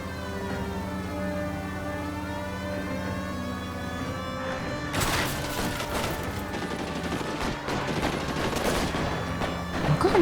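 A gunfight in the video game L.A. Noire erupts about halfway through, with rapid dense bursts of gunfire over a wailing siren and tonal game music that run on to the end.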